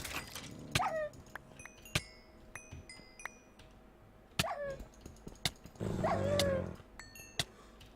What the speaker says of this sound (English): There's the dog.